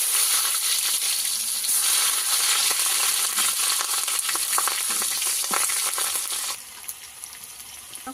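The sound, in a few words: onions and five-spice frying in oil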